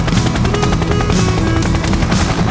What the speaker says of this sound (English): I am a helicopter. I can fly and hover in the sky.